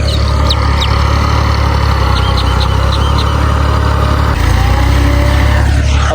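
A loud tractor engine drones steadily and close in a field being prepared for rice planting, its low throb shifting pitch once, while a few bird chirps sound in the background.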